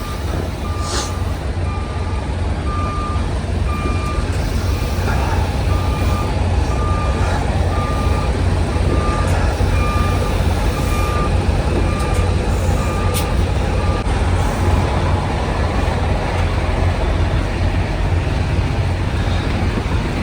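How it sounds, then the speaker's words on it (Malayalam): A truck reversing onto a weigh scale in harsh winter weather in the USA sends out a regular series of short reversing beeps over a loud, steady engine rumble that continues after the beeping stops. "നമ്മളെ ട്രക്ക് പോരട്ടെ."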